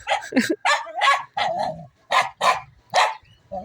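A small dog barks repeatedly in quick, sharp yaps, close and loud, with short pauses between bursts.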